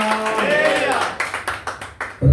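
A church congregation claps loudly in a run of sharp, rhythmic hand claps under a preacher's continuing voice, ending in a louder burst.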